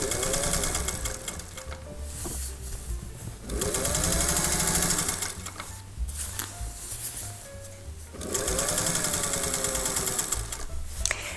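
A sewing machine stitches through a thick jacket zipper with its flap, running in loud rapid whirring bursts separated by short pauses, close and clear with no talk.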